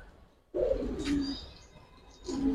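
A pair of Maxi racer pigeons at a pigeon farm coo up close: a low rolling coo after a brief quiet, a fainter call, then a second coo starting at the end.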